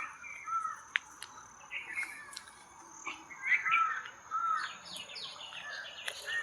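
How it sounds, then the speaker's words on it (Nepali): Birds chirp and tweet outdoors amid greenery in short, scattered bursts at varying distances, faint overall, with a steady high insect-like hum behind them. "सो तपाईँहरूले चराहरूको आवाज सुन्दै भयो होला होइन"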